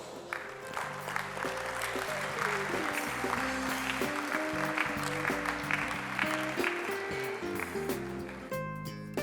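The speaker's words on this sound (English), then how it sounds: "A round of applause." An audience claps during a bouquet presentation to a guest of honour at a health and wealth event; the steady clapping runs the whole time, partly buried under loud tonal music.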